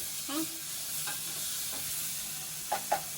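Tomatoes fry in a pan for pasta with a steady, soft sizzle, broken by a few light stirring scrapes and two brief clinks near the end.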